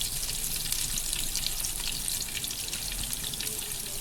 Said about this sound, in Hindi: 1 टीस्पून के करीब अदरक लहसुन का पेस्ट। इसे हम हल्का हल्का सा फ्राई करेंगे।